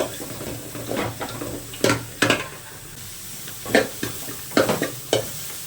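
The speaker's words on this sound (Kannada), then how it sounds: "ಸೊ ಈರುಳ್ಳಿ ಕೂಡ ಫ್ರೈ ಮಾಡ್ಕೊಳ್ತಾ ಇದ್ದೀನಿ" Onion frying in a pan for coconut sambar, a soft continuous sizzle punctuated by repeated scraping strokes of a spoon stirring against the pan, close and fairly quiet.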